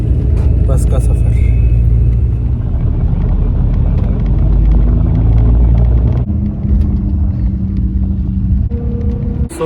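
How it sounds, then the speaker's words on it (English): Steady, loud engine rumble inside a bus on a night ride to Jaisalmer, droning continuously and close with little change, dipping briefly near the end before resuming. "So I boarded the bus to Jaisalmer"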